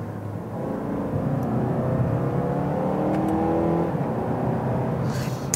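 A 2018 Mazda3 GT hatchback's four-cylinder engine hums and builds into a sustained rev, rising and holding steady, heard from inside the cabin without voices.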